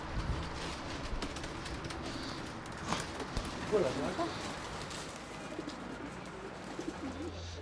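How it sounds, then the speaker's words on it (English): Racing pigeons bred by a champion fancier in Baotou coo softly from a loft, their low murmurs blending into steady background noise while people talk nearby. "We're going to look at some pigeons, the champions of Mr. Zhou."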